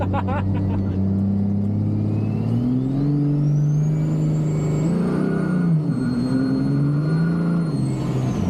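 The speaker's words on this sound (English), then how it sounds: "Those turbos have never sounded so good." Turbocharged car engine revving hard on a racetrack, a loud sustained drone that climbs in pitch with a rising whine and surging revs throughout, close up and alone without speech.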